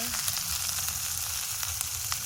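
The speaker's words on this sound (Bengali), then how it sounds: "একটু জল দিয়ে ভালো করে কষিয়ে নেব মশলাটা" A village-style spice paste of salt and turmeric fries in a pan with a little water, making a dense, continuous sizzle heard up close.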